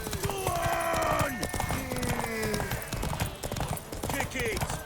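Hooves clip-clop rapidly on the ground as a horse races in The Witcher 3, with neighing and tonal cries over the rhythmic beats while voices shout nearby.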